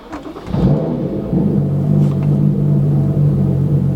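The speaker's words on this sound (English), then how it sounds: "Let's go ahead and start up the car." BMW M2 F87 engine fires up after a Bootmod3 Stage 1 tune, a brief starter crank followed by a loud, steady low idle rumble that settles and holds close by.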